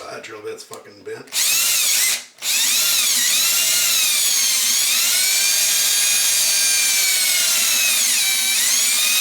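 A power drill runs on the bent bit during work on a Boss Katana 50 A/B switch for an expression pedal. There are a few short bursts, then a brief stop, then a long steady high whine whose pitch wavers under load, close to the microphone.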